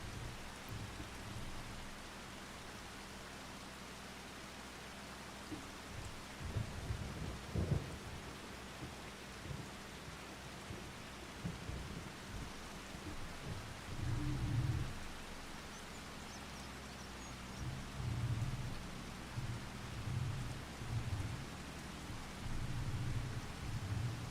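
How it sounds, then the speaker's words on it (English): Steady rain falls in the Farming Simulator 25 video game, a constant hiss with occasional low rumbles of thunder swelling and fading beneath it, and no voices. "Well, actually, the forecast is showing it as sunny, but it's still raining."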